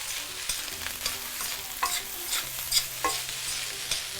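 Chinese sausage fried rice with fried onion gets a final stir in a hot pan: a spatula scrapes and clinks in quick irregular strokes over a soft, steady sizzle, close by, with no talking.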